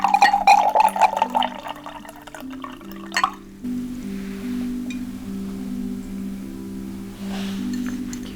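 Water pours into a drinking glass, a close, bubbling splash lasting a few seconds before it stops, followed by a quiet room with a faint background hum.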